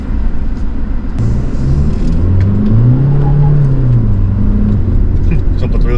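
A 2026 Toyota Hilux diesel pickup in sport mode accelerates hard with a brief wheel spin, its engine note rising steadily and loud up close beneath someone talking throughout.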